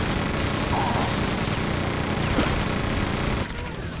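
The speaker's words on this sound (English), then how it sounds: "gotta go machine gun these guys" Dense, continuous machine gun fire in Quake 2, loud and steady throughout with a brief dip near the end.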